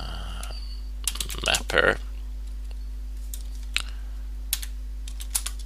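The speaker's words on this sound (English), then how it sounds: "All you have to do is type in mount dev" Quick bursts of computer keyboard typing as a Linux mount command is entered, close clicky keystrokes with pauses between short runs, while a person speaks over them.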